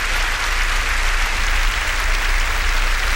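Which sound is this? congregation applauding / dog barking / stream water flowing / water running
congregation applauding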